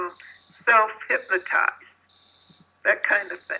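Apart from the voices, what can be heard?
electronic beeping in the background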